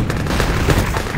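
A gunshot in the online shooter Enemy Territory (ETPro), one dense burst of crackling game gunfire lasting about a second, loud and up close.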